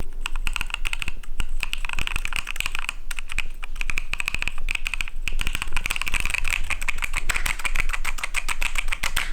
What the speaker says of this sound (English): the keyboard sounds extremely snappy, which is a word I've never used to describe a keyboard